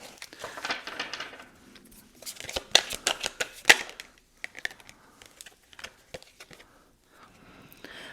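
A deck of oracle cards is shuffled by hand in a quiet room, producing a busy run of crisp riffling snaps and papery slaps that bunch up, then thin to scattered soft card flicks.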